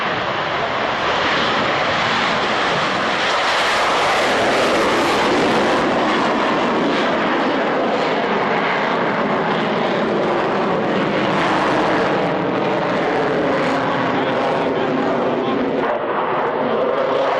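A Royal Netherlands Air Force F-16A Fighting Falcon from Volkel Air Base roars through its airshow display sequence, a loud sustained jet engine noise that swells and sweeps across the sky for the whole stretch with no pauses.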